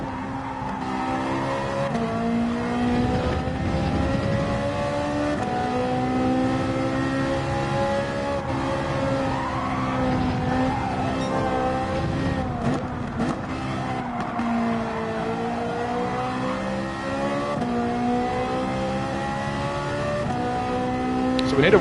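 A Ferrari race car engine in Gran Turismo 7 drones loud and unbroken through a daily online race, its pitch rising and falling with gear changes. Brief tire squeal sounds in places, with faint talk underneath.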